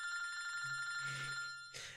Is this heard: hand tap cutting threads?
no